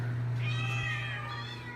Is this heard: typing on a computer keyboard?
no